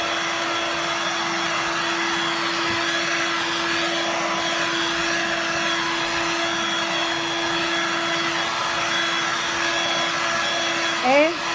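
A Dirt Devil Vibe 3-in-1 corded stick vacuum runs with a steady, loud motor whine and airflow roar that holds evenly throughout, ending with a brief bump near the close.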